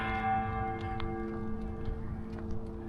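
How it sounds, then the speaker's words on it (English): A church bell rings in the distance in Columbia, Tennessee, its sustained tone hanging faintly over quiet street ambience with a few soft ticks. "You guys hear that bell?"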